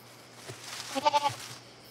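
A goat bleats once in a wavering, nasal cry, fairly close, against a quiet background.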